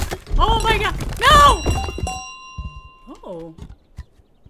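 A small golden bell rings in Untitled Goose Game, giving a few bright, ringing dings with a sustained tone that fades out in the second half, after loud excited talk and shouting.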